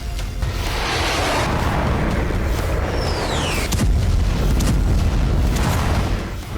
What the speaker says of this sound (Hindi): रूस के एक डिफेंस प्लांट पर ड्रोन का धमाका हुआ।